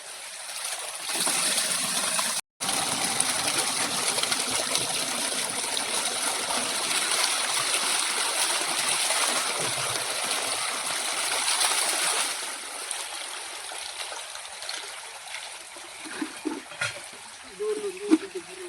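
Steady rushing water pours and splashes for most of the clip, then tapers off to quieter trickles and drips near the end.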